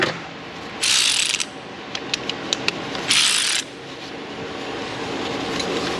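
A ratchet wrench clicks in two quick bursts, with a few sharp single clicks between them, while tightening a bolt on a Honda Odyssey 3.5 minivan. The sound is close and loud, and a faint steady background hum runs underneath.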